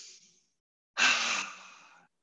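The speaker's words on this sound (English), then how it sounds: "Take a deep breath and let it go." A single deep exhale during a vinyasa yoga class, a long breathy sigh of about a second, close and clear, following a faint breath just before it.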